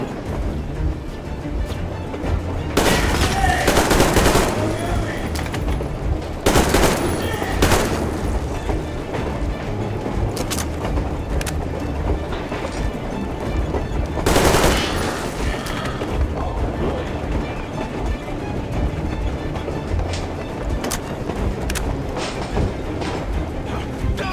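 A battle in the video game Metro Exodus: sustained gunfire with several loud, sharp bursts and booms rising over a continuous rumbling, clattering din, likely with voices mixed into the chaos.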